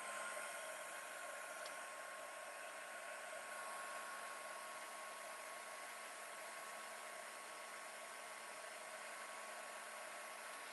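A heat tool blows a steady, even hiss as it dries leaves for art journaling, faint and constant with no pauses throughout.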